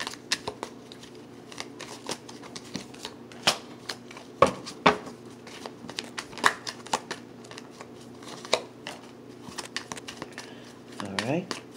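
Tarot cards being shuffled and handled during a reading, giving a run of soft papery riffles and sharp flicks scattered across the clip, close and fairly quiet, over a steady low room hum.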